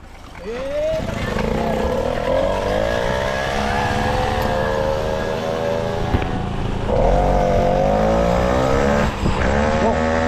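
A motorcycle engine starts and revs up and down in repeated rising and falling whines, loud and close, with a brief dip before revving again.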